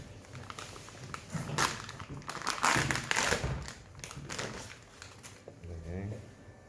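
Plastic wrapping is torn and crinkled off a new spool of 3D printer filament in a series of close rustling bursts, louder in the middle, and a voice speaks briefly near the end.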